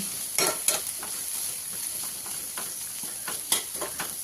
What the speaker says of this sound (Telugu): పావు స్పూన్ అల్లం వెల్లుల్లి పేస్ట్ వేసి అల్లం వెల్లుల్లి పేస్ట్ పచ్చివాసన పోయే వరకు వేయించుకోవాలి